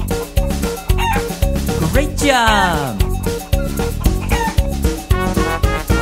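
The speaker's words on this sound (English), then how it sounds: "I see a chicken. Cluck, cluck, cluck, cluck, cluck, cluck, cluck." Chicken clucking and a rooster crowing in a children's animal song, with repeated short clucks and one rising crow over bouncy music, while an adult voice sings and speaks.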